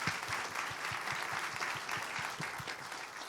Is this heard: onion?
no